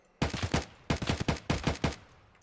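Gunfire in Escape From Tarkov, aimed at the player, arrives in three tight bursts of four or five loud, sharp shots each, separated by short pauses.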